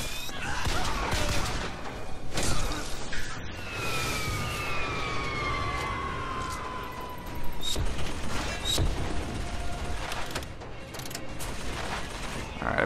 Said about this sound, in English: I believe there's a turret shooting us